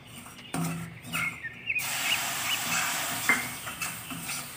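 Milk poured into a roasting peda mixture while it is stirred in a pan, giving a sudden loud hiss and sizzle followed by scraping stirring sounds, close up and without talk.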